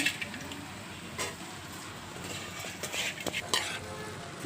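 Gongura leaves sizzle and fry in a pan while being stirred, giving a steady crackling hiss broken by occasional scraping and clinking of the spoon against the metal.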